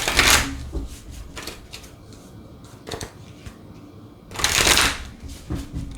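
Angel oracle cards are shuffled close up in two loud bursts of riffling at the start and near the end, separated by softer taps and card handling.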